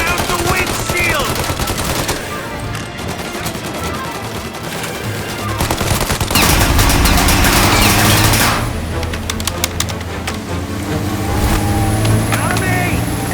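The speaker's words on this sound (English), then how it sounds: "The windshield! Shoot out the windshield!" Gunfire rakes a car's windshield in Mafia: Definitive Edition, loud repeated bursts over rumbling vehicle noise while voices shout throughout.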